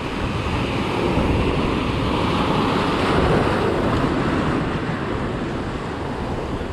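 Ocean surf breaking on a beach in Ventura County, California, a continuous broad roar of waves washing in with wind buffeting the microphone, loud and close throughout, no voices.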